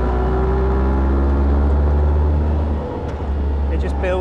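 A Morgan Super 3 with a Ford three-cylinder engine revs under load, a steady loud drone with a rising tonal line, heard from on board while someone talks over it.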